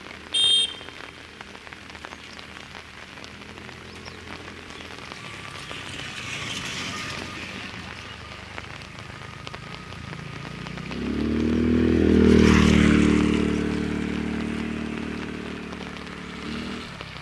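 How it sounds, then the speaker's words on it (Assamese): Heavy monsoon rain falls on surfaces at a tea garden near Dibrugarh, a constant wash of patter that swells louder and heavier midway before easing slightly, with no one talking. "এনেকুৱা বৰষুণত বিশেষকৈ আমাৰ বাৰিষা কালত"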